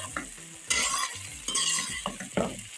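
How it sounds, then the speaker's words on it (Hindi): Okra with half-fried onions sizzles in a pan over a medium flame, with a spoon stirring and scraping in several short bursts over a few seconds, close and clear with no talking. "मीडियम फ्लेम पे तकरीबन 8 से 10 मिनट तक हम इसको भी फ्राई करेंगे"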